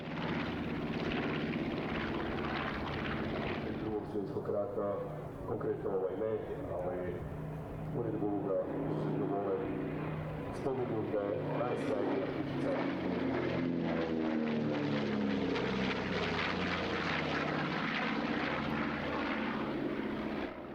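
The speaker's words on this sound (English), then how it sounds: "The Flying Bulls came over from Hangar 7 in Salzburg with one of their shiny warbirds, the B-25 Mitchell." A B-25 Mitchell warbird bomber flies at an airshow, its piston engines droning steadily and loud for the whole stretch, the pitch and tone shifting slowly as it passes.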